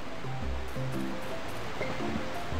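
Water in The Hoobs video game rushes steadily in a continuous wash like a stream or waterfall, with soft tonal game sounds layered faintly above it.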